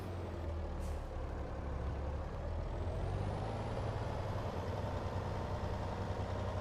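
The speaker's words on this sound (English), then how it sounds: "I know this truck is still pretty loud" Engine of a big rig truck in the video game Farming Simulator 22, a loud, steady low rumble with hissing air brake sounds, continuous and close throughout, no talking.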